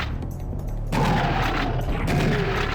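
A shotgun firing shells in the Serious Sam First Encounter video game, with heavy booming blasts that start abruptly and then keep up as a loud continuous barrage.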